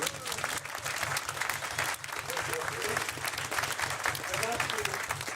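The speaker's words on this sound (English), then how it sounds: "Big round of applause for Ashley" Steady applause from a crowd, dense clapping filling the room at an even loudness throughout.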